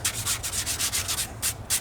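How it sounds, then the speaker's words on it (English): A sanding pad scrubs across the Alcantara upholstery in a BMW F10 M5, making quick, rhythmic rubbing strokes up close, a steady back-and-forth scratching with a brief pause near the end. "So think of it like I'm letting the sanding pad do the work."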